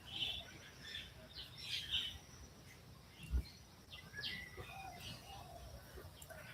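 Faint, distant bird chirps and twitters at sunrise scattered over a quiet outdoor ambience, with one soft low thump partway through.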